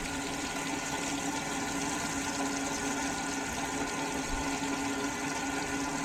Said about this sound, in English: It doesn't help that it takes a minute for the water to actually travel through the hose